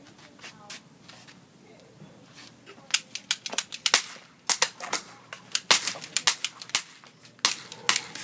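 Staged gunfire sound effect for a school news broadcast set in a revolt, with sharp, rapid shots and bursts cracking irregularly, denser and louder toward the end, mixed with faint voices.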